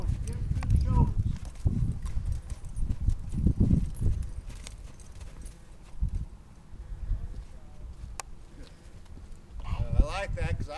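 Trail horse walking with hooves clip-clopping in an irregular rhythm at close range, heard alongside someone talking.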